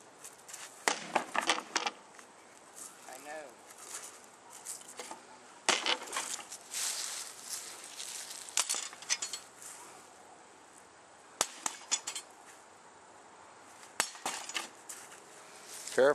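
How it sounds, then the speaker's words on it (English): Scattered sharp knocks of a hammer striking wooden pieces, irregular bursts of a few hits separated by pauses, fairly close but soft, with faint background insects. "You ain't gonna be able to do much by hitting it like that, Justin."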